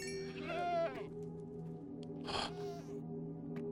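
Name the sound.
goats bleating in video game Minecraft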